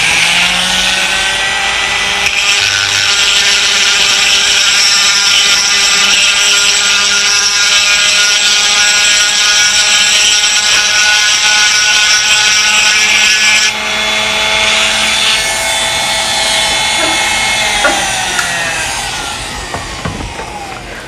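A small round stone spins on a high-speed rotary tool, bevelling a hole on a 1911 pistol. It gives a loud, sustained whine close up that shifts pitch partway through and tapers at the end, with no talk.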